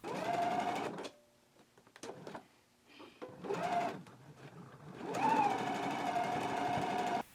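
A sewing machine runs in short bursts then a longer steady run, stitching the waistband seam of a pair of shorts, its rapid motor whir stopping and starting with quiet pauses between.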